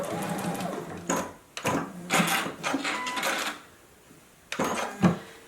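A JUKI sewing machine runs in several short bursts of rapid needle chatter while stitching a face mask seam, separated by brief pauses and a small clunk near the end.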